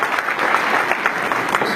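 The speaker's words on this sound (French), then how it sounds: "Nous applaudissons s'il vous plaît." Dense, continuous applause rises from an audience gathered for a forum on aromatic plants, many hands clapping together at an even level throughout.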